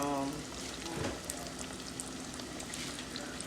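Thin pork chops crackling in a small home deep fryer, a steady bright sizzle of hot oil with brief bubbling bursts, close and continuous.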